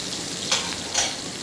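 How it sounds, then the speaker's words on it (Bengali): Ground spices frying in hot oil over low heat for a duck meat curry, a steady soft sizzle with two brief louder crackling bursts, heard close and alone without voices. "চুলের আঁচটা লোতে রেখে এই মশলাগুলো আমি তেলের মধ্যে ভালো করে ভেজে নেব"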